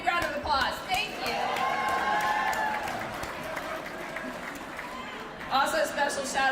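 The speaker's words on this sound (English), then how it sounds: "So give yourself a big round of applause." Audience applause at an election-night headquarters gathering, with a dense crowd clapping continuously at moderate volume, voices and cheers mixed in, and a brief swell near the end.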